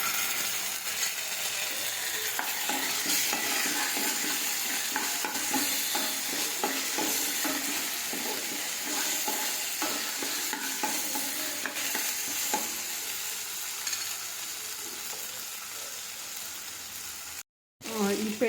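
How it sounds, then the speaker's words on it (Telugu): Ginger and garlic sizzle in hot oil in a pan while a spoon stirs and scrapes through them, a steady close frying hiss with scattered clinks and scrapes, followed by a brief gap of silence just before the end. "ఇప్పుడు అల్లం వెల్లిపాయ వేసుకొని పచ్చిమాసం పోయే వరకు బాగా వేయించుకుందాం"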